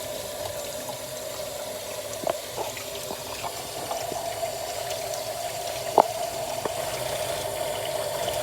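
Hot tap water runs steadily into a kitchen sink while fresh herbs are rinsed, a quiet continuous stream with occasional soft clinks and splashes from handling.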